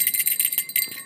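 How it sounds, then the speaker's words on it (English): Small bells sewn all over an elf costume jingle and tinkle in quick bright bursts as the wearer moves, close and fairly loud for about a second. "I'm wearing bells all over the place."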